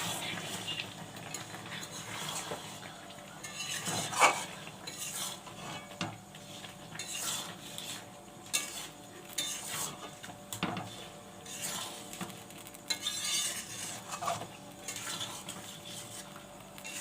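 Food is stirred in a kadai with scattered metallic scrapes and clinks of a spoon against the pan over a faint background hiss, irregular and moderately quiet with no talking.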